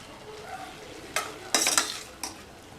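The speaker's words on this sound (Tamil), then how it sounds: "நல்லா கலந்து விட்டுறலாம்." A spoon stirs cabbage kootu curry with coconut paste in a pan in a few short scraping bursts, close and fairly loud against a quiet kitchen background.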